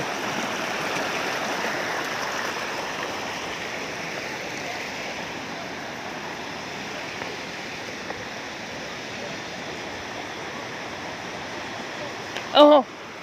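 Steady rushing of flowing stream water near a waterfall in Sekong province, southern Laos, close and continuous, with a short sharp tonal sound near the end.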